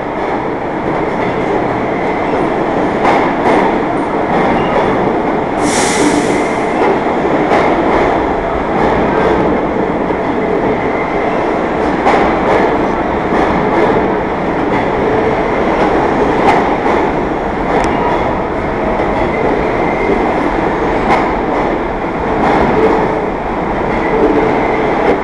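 A New York City subway R train runs at West 4th Street station on the IND 6th Avenue Line. It gives a loud, continuous rumble with rhythmic wheel clatter and one brief high squeal, and no voices are heard.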